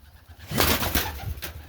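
Homing pigeons coo in a loft, a few soft, close calls with some shuffling and rustling around them.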